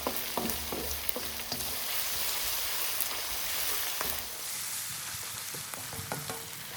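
Bay leaves (tejpata) and spices fry in a pan on a medium-low gas hob with a steady close sizzle, small pops and crackles, and occasional stirring clicks, with no talking.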